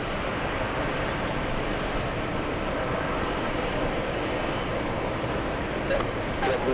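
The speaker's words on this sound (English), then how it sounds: "We have a JetBlue trying to steal a spotlight, parking at gate 1." JetBlue airliner taxiing to its gate at JFK airport, a steady broadband engine roar that holds at even loudness throughout, with faint brief higher tones near the end.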